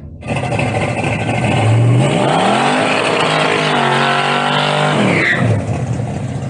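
A Toyota Corolla drag car with a 350 engine swap rumbles loudly on a dragstrip, its deep engine note rising and holding steady over several seconds before easing off, close and dominant throughout.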